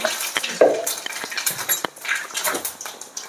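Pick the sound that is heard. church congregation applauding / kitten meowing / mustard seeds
mustard seeds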